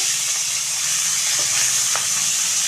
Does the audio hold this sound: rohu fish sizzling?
yes